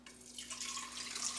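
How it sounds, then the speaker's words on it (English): Water pours steadily into the reservoir of a Mueller Ultima coffee maker, a continuous splashing trickle heard up close and fairly quiet, with no talk. "we're gonna add some water into it"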